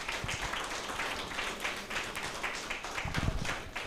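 An audience claps for newly inaugurated NAIP executive members, a steady wash of many hands from a crowd indoors, continuous and moderately loud with a few stronger bursts near the end.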